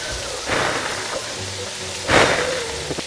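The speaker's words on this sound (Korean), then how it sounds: "잠깐 비가 오는 것 같은데, 지금 살짝?" Light rain falls outdoors during a countryside samgyeopsal and kimchi meal cooked on a cauldron lid, a soft steady patter with two louder splashy bursts rising briefly above it.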